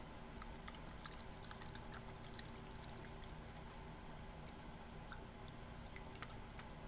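Bottled water poured into a measuring cup to measure three ounces for a plaster casting mix, a steady soft trickling and splashing that runs continuously at low level with no talking.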